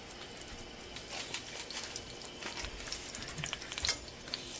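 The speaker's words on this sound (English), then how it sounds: "to that hot oil, I'm going to add some of my blue bonnet" Blue Bonnet margarine sizzling steadily in hot oil in a pan, a dense crackling hiss with small pops throughout, fairly quiet and without talk.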